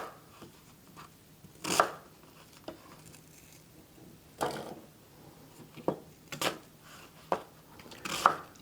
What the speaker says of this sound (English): Cut your onion in 4 or 5 pieces